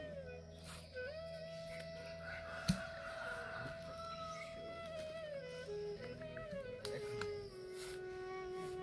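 Chickens cluck and a rooster crows close by on a farm in a steady run of bird calls, with a sharp knock partway through and low background hum throughout.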